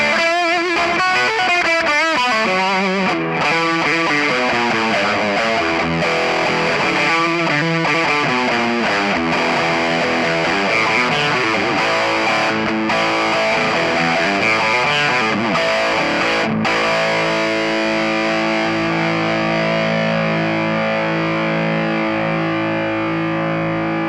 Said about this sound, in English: That's a lot of gain and distortion